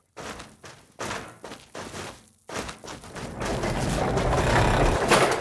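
Footsteps for a radio play sound effect, heavy, evenly spaced thuds, several in a row, blurring into a louder continuous scuffing and rumbling wash, near an industrial door.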